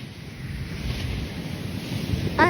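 Sea waves at Madhavpur beach make a low, steady wash with wind buffeting the microphone, a swell building toward the end.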